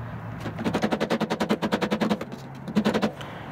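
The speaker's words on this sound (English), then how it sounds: "Now I can continue pounding it backwards." Rapid rhythmic metal blows drive a worn hyfax slider backwards off a Ski-Doo R-Motion rail, coming in two quick rattling bursts that sound close and sharp.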